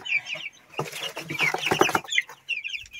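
Broiler chicks under a heat lamp cheep in rapid, high-pitched bursts, close and fairly loud, with a short stretch of shrill peeping and rustling in between.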